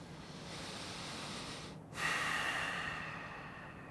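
One slow, deep breath during a relaxation exercise: a soft, drawn-out inhale, a brief pause, then a longer, louder exhale, close and alone in a quiet room.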